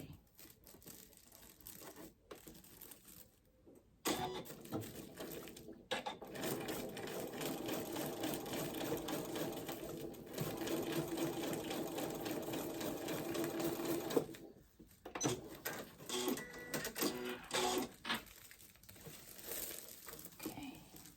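A sewing machine runs a long basting stitch across a shirt, starting with a few short bursts and then settling into a steady close whir for about ten seconds before stopping and restarting briefly.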